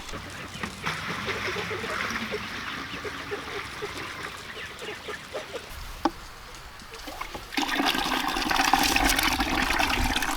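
Water is poured into chicken waterers in a farmyard, a continuous splashing rush that swells louder partway through, with poultry faintly nearby.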